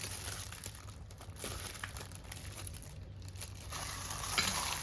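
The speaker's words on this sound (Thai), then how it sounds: "เราก็ขยำคลุกให้ส่วนผสมทั้งหมดเนี่ยเขา เข้ากันนะคะ ให้เกลือละลายแป้งมันละลายนะคะ" Chicken pieces are squeezed and mixed by hand with water, salt and tapioca starch, giving close, wet squelching and crinkly churning sounds that continue steadily with no talking.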